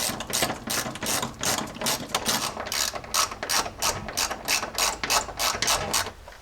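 Hand ratchet snugging bolts on a Jeep rear bump stop, a rapid continuous run of close, loud clicking strokes in a steady rhythm, with no talk.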